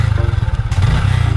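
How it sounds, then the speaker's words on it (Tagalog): A Yamaha Sniper 155 motorcycle with about 50,000 km on the odometer idles close by, a loud, low, steady throbbing engine note with light mechanical clatter, heard alone. "Kay Odo, ito na yung ano niya, tunog ng makina."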